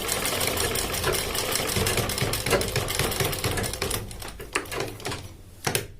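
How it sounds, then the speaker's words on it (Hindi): Sewing machine stitching along the edge of a shirt's front placket, a fast, close rattling run for about four seconds that then slows into a few separate bursts and knocks. "फिर हम इसकी किनार की सिलाई लगाएंगे इस तरह से"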